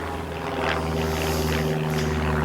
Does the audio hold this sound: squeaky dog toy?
no